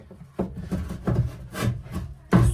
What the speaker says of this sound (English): you're gonna hold the motor and pull it out